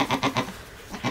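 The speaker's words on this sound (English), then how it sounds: "the chaos with Ellie screaming and goats going everywhere" Baby goats newly introduced to a herd bleat loudly and close by, a quick run of three short bleats followed after a pause by another cry.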